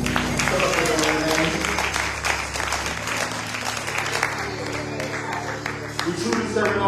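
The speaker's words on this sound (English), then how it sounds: "Come on, clap your hands." A church congregation claps hands steadily through loud worship music, the clapping running continuously under the band with a busy, crowded feel.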